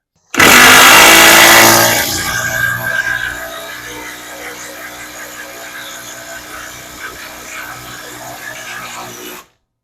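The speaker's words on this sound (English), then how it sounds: "let's try out the new tabless battery with a big lag bolt on a 1/2-inch impact" A 1/2-inch impact driver on a Metabo HPT tabless battery drives a big lag bolt, opening with a loud rapid hammering burst that settles into a steadier, lower-pitched rattling drone for several seconds before it cuts off.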